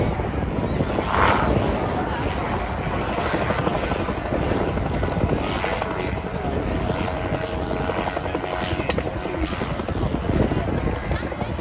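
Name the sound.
autogyro engine flying at air show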